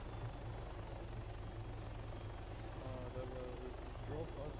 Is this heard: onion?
no